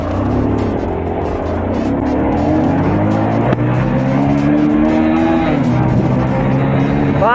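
A Kawasaki H2R motorcycle launches hard, its loud engine roar climbing steadily in pitch through the revs, with a brief sharp click partway and a faint voice in the background.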